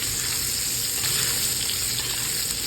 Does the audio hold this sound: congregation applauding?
no